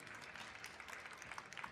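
An audience at a convention actor talk applauds, a dense patter of many hands clapping at a steady level, heard from somewhat far off and fairly faint.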